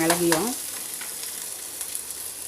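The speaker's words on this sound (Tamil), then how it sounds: "இப்போ இந்த வெங்காயம் நல்லா இதில் வேகணும்" Onions fry in oil for gongura keerai masiyal, giving a close, steady sizzle and crackle after a brief tonal clink at the start.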